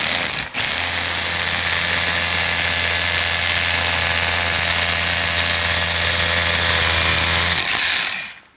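A Hilti TE 6-A22 cordless rotary hammer drills a hole with a loud, steady, hammering whine that runs unbroken for about seven seconds before cutting off, close and with no talk over it.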